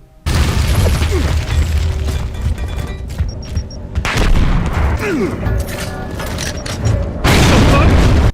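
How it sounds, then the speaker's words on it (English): Booming grenade blasts from Gears of War: Ultimate Edition with crackling debris and scattered pops, loud and close, several detonations in sequence. "the grenade sound effect is probably the biggest downgrade in terms of how good it sounds"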